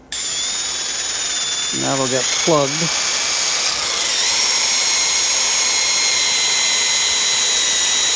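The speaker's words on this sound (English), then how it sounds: "I'm first going to drill a short pilot hole for the head" A power drill bores a short pilot hole into very hard wood for a screw head on a European deer skull mount, whining steadily in the foreground for several seconds while someone talks briefly over it.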